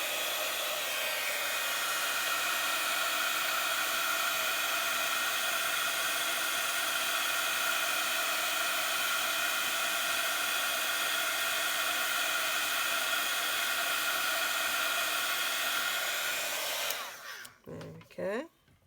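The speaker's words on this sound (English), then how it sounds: "I'm just going to blast it with a heat gun to make sure that that is actually dry" Heat gun drying a painted card, a steady loud whooshing blower hum running unbroken for most of the time before switching off, followed by brief handling noises.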